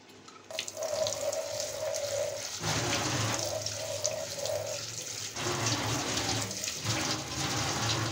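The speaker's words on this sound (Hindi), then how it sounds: "तो मैं इसको धो के रख देती हूँ।" Something is washed under a running kitchen tap, water splashing steadily into a sink with shifting tone as hands move items through the stream, close and continuous.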